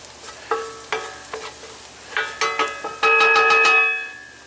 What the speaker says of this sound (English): we'll run that around in there with my wooden spoon that I've got now